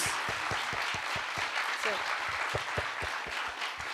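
Audience applause fills a hall at a school annual day event, dense and steady clapping with sharp individual claps up front, while someone briefly speaks over it.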